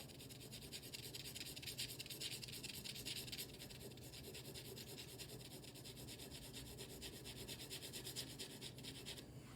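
A sharpened pencil shades a drawing of a nose, giving a soft, continuous scratching rasp of graphite on paper with steady back-and-forth strokes, close up and fairly quiet with no voices.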